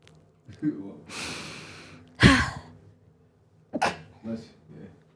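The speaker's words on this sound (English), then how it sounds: "I feel like I have to sneeze" A single sharp sneeze bursts out mid-clip, preceded by a drawn-in breath, with a few softer breathy sounds and a brief voice afterward.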